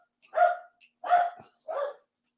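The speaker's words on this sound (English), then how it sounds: "Who is he barking at?" Three loud, close dog barks spaced about half a second apart, with silence in between.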